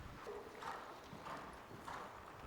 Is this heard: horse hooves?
yes